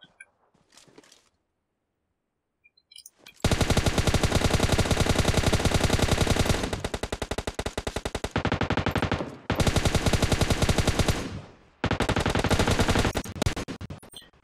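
Automatic gunfire in PUBG Mobile on the Miramar desert map, loud rapid bursts lasting several seconds each with short breaks between, after a few faint quiet shots at the start.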